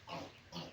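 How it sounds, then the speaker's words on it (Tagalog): Pigs in a small backyard pen on a provincial farm, with three sows: two short grunting snorts a half second apart, close by and moderately loud. "dito po yung aking maliit na kulungan ng baboy"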